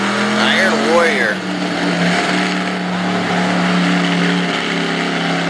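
A monster truck engine revs hard and steady during a pull at a Woodstock, Virginia event, its loud roar sustained throughout, with an announcer talking over it.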